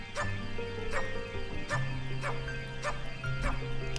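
Dogs in the Majora's Mask video game bark in a regular series of five loud, evenly spaced barks, with a low droning game tone running underneath.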